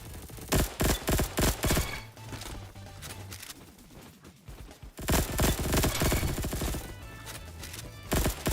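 The Scorpion EVO submachine gun in the Roblox game Bad Business fires in loud, rapid bursts of automatic gunfire, with short pauses between bursts.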